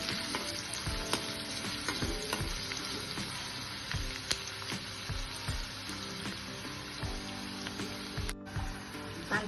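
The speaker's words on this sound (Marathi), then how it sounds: "त्यामध्ये आपण बारीक चिरलेला कांदा घालून घेऊया." Finely chopped onion fries in oil over a low-to-medium flame, a steady close sizzle with periodic spatula scrapes and taps keeping an irregular rhythm.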